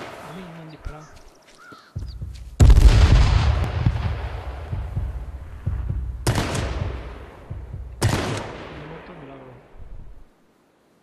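Gunfire in the video game H1Z1: three loud, sharp blasts with long decaying tails, the first heaviest, spaced a few seconds apart amid quieter game noise, then silence.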